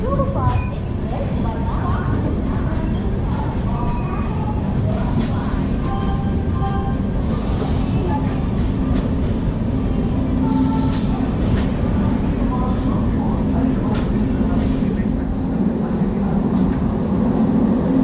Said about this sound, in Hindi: train number 1277 from Secunderabad, Tirupati, 7 Hills, Superfast Express